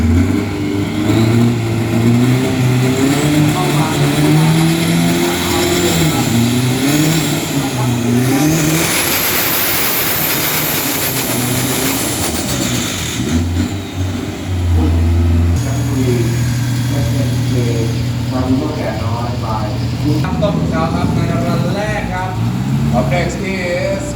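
Pro Modified drag race car in the 1100 kg class accelerating at a King Drag event in Thailand, a loud sustained engine roar with rising revs, heard under continuous commentary from an announcer.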